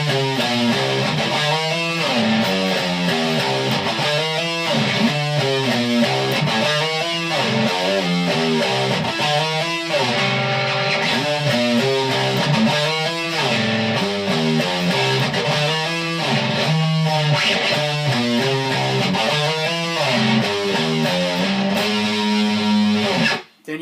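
Distorted electric guitar plays the interlude of a song, a loud, steady run of chugging rhythmic chords and riffs lasting the whole stretch before cutting off abruptly at the end.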